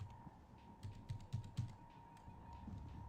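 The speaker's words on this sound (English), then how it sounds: "My keyboard is just loud, and the mic is sitting directly next to it." Loud computer keyboard typing close to the mic, a quick run of clacking keystrokes in uneven bursts with a steady faint hum behind, no voices.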